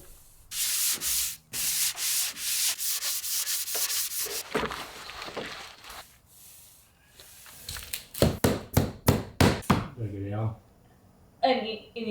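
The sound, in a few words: light sanding of polyurethane-coated pine boards with 220 grit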